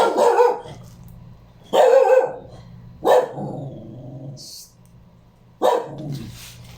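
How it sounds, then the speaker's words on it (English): A dog barks loudly indoors in four sharp bursts separated by pauses of a second or more, each bark loud and close, with a low steady hum underneath between them. "I have to cut the video because the dog is being loud"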